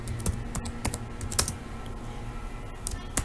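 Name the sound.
typing a Linux terminal command on a computer keyboard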